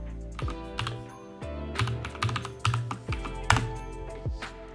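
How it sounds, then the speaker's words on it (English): Password being typed on a computer keyboard in a terminal, a quick irregular run of clear, close key clicks with a few heavier thunks, no talking. "And type your password."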